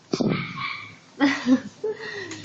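A pet dog whimpers and gives a few short yips and barks close by, high thin whines followed by two or three sharp bursts, with a person's voice faintly in the background.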